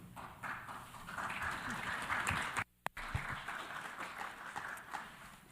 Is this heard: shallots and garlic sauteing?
no